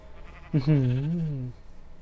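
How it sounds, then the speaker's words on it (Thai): A single drawn-out sheep bleat from the game Minecraft 1.11.2, about one second long, clear and fairly close against a quiet background. "โอ้โหดูแกะเราดิ"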